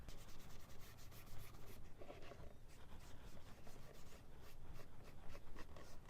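A dauber brushing dye across a leather knife sheath, a continuous soft close scrubbing and rubbing hiss with quick repeated strokes and no voice.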